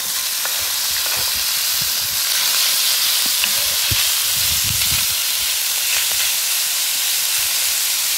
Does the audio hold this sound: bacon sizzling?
yes